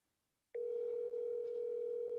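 A telephone line gives a single continuous electronic tone that starts abruptly after half a second of silence and holds evenly, moderately loud and alone.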